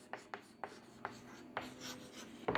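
Chalk or marker strokes on a board during a Hindi-language biology lecture on mutation, several sharp taps and scratches spaced unevenly in a quiet room.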